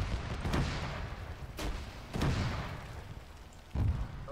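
Several heavy blasts from frag grenades going off in the Arma 3 combat game, three or four loud booms spread across a few seconds over steady battle rumble, with no voices.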